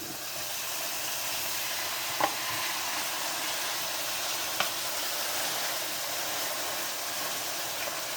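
Beef sizzles steadily in olive oil in a wok: a loud, continuous hiss and crackle with two brief clicks of a utensil against the pan.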